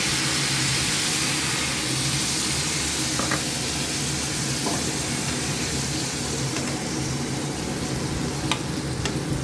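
Water poured into a hot pan of potato and papaya curry, giving a loud, dense sizzling hiss that holds steady throughout, with a few faint clicks of a utensil, no talking.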